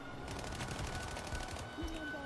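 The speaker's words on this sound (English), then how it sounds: "And the noise of gunfire." Gunfire in the video game Sniper Ghost Warrior Contracts crackles in a dense, rapid burst of shots over a loud, continuous noisy background.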